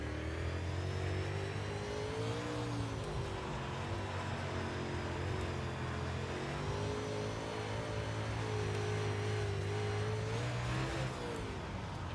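A UMP dirt modified race car in iRacing, its engine droning steadily with rising and falling revs and shifting pitch throughout, loud and continuous with no talk.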